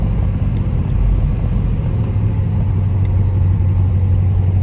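A 1968 Pontiac GTO cruising down the road, its engine giving a deep, steady low rumble close by, with a constant drone and no talking.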